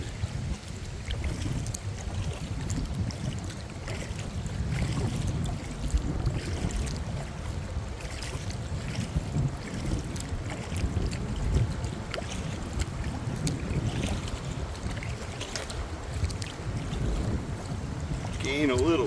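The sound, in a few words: paddling a canoe through rough lake water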